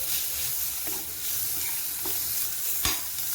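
Masala paste stirred into onions and curry leaves frying in a pan, a steady close sizzle with a few soft scraping stirs and one sharper clink near the end, no voices.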